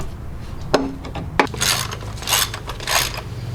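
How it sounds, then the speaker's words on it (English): A wrench works on a tie rod jam nut, giving two sharp metallic clicks followed by several rasping ratchet-like bursts, close and isolated with no talking. "I just gotta come back in and tighten up that jam nut."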